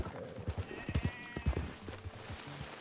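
Horse hooves clip-clop in Red Dead Redemption 2, an uneven run of close, soft thuds with a brief whinny-like tone, fairly quiet and without talk over it.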